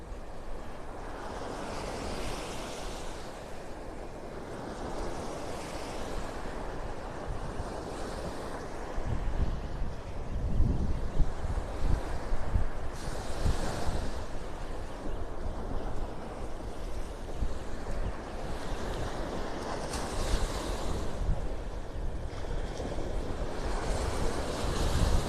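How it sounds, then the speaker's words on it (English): Ocean surf rolls in on Vanderbilt Beach in Naples, Florida, with a continuous wash of waves and gusty wind buffeting the microphone during a walk along the shore, growing louder partway through, with no talking. "We're walking south on Vanderbilt Beach."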